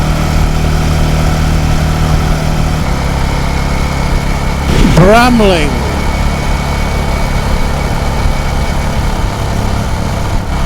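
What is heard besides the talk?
Royal Enfield motorcycle engines on a group ride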